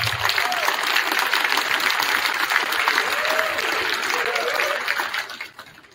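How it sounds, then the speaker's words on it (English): Concert audience at a middle school winter band concert giving the director of bands a round of applause, steady full clapping with a little voice under it before it tapers off. "Give him a round of applause"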